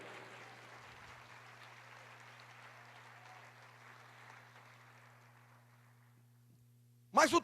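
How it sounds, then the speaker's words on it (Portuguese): Church congregation applauding, a broad wash of clapping that slowly fades away over several seconds, followed by a loud voice at the end. "Diga aplauda o Senhor"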